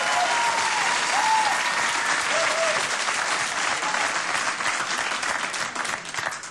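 A crowd claps steadily throughout, a full, even roar of applause with a few faint whistles, tapering slightly at the end.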